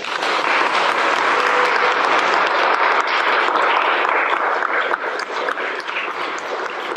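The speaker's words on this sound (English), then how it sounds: "I invite you to welcome Reverend Hyun into the United Church of Canada with applause." A congregation at a United Church of Canada ordination service applauds in welcome of a new minister, giving a long, steady, full-room clapping that stays loud throughout.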